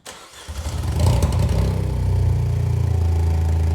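A Vauxhall Corsa engine with a big bore exhaust cranks briefly, catches and settles into a loud, throbbing idle, heard close by with no talk.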